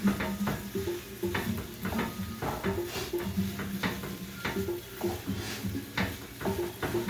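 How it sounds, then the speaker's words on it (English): Browning ground meat for chili stirred around a hot pot, a steady sizzle beneath repeated scraping strokes of the spoon against the pot, close and fairly loud, with no one talking. "I'm going to go over here and stir the meat since the thing came up to temperature"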